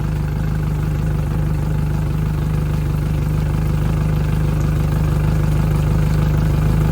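A 2010 Yamaha F115 four-stroke outboard on a Bennington boat idles steadily, a loud, close, even low rumble with a faint rapid clatter and no change in pace throughout.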